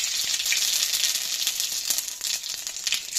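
Cumin seeds sputter in hot oil alongside mustard seeds, a close steady sizzle peppered with sharp irregular pops and crackles.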